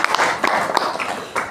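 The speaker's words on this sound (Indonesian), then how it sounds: "tepuk tangan juga ya untuk Haura" A classroom of students applauds a classmate, a dense, steady patter of many hands clapping throughout, with sharper claps standing out now and then.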